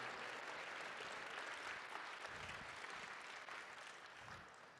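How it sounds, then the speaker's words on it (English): An audience at a robotics championship event in Alaska applauds. The clapping is dense and sustained, fading slightly at the end. "Give them a real big round of applause for that."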